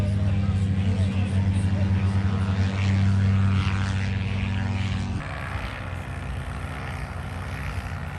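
A paramotor's propeller engine drones loudly and steadily as pilots fly in to land after tasks at a national championship, the tone shifting partway through, with voices talking underneath.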